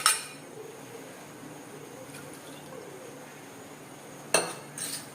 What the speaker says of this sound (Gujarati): અને હવે આપણે એને ધીમે ધીમે હલાવતા રહીશું, નહીંતર છે ને દૂધ નીચે ચોટી જશે.